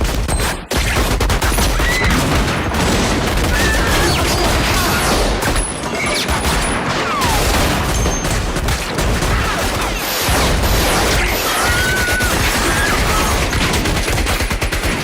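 Dense gunfire from the film Inglourious Basterds, a loud sustained fusillade of rapid shots and bursts with crashes, running continuously with only a brief break near the start.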